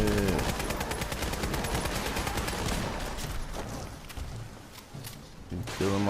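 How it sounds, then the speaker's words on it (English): Rapid gunfire from the video game Fallout 4, dense bursts of repeated shots filling the first few seconds, then thinning out before a couple of loud shots return near the end. "Who's shooting them down?"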